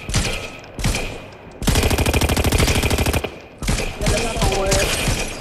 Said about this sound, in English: Somebody just sniped at me.